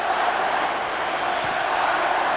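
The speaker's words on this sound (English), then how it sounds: "And the crowd starting to chant for Ireland." A stadium crowd chanting for Ireland at an International Rules football test match against Australia in 1998, a dense continuous roar of many voices from across the ground.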